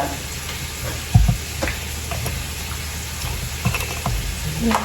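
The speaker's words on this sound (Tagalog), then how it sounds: "lagyan ko na siya ng mantika" Cooking oil heats in a pan while ginataang gulay is being prepared, giving a steady low sizzle and hiss with a few sharp utensil knocks against the pan.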